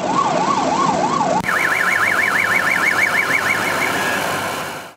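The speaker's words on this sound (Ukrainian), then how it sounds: "Автівки роз'їжджаються у різні боки, аби швидка мала змогу вільно їхати." An ambulance siren wails loud and close in traffic, first a slow low up-and-down sweep, then switching abruptly to a faster higher warble that continues steadily before fading at the end.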